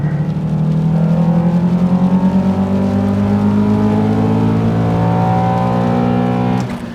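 Toyota Celica and Honda Accord accelerating hard side by side in a race, engines climbing steadily in pitch through the gears, loud and close, before a sudden drop at the end.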